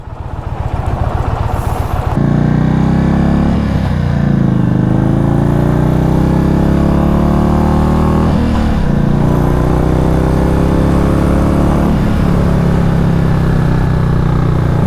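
A motorcycle with a 111 Thunderstroke engine rumbles loud and close, revving in rising pulls and dropping back as the throttle is let out, with the cylinder deactivation cutting in each time.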